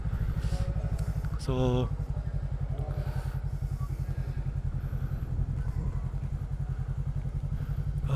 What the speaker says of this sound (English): I like the sound of this bike, actually. It has that bass tone.